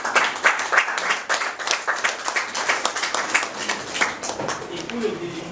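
An audience at a hotel and restaurant training graduation applauds the chef, a moderate burst of scattered clapping in a room that continues for several seconds, with talking mixed in.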